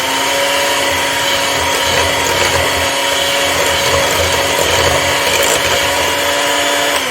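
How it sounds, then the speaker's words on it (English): Electric hand mixer beating muffin batter with eggs, a loud steady motor whine running continuously and close for the full duration. "I am using a hand mixer"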